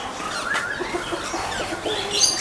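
A rooster kept at a zoo in Bannerghatta Biological Park, Bangalore gives one drawn-out crow at close range, with faint clucking and outdoor ambience around it.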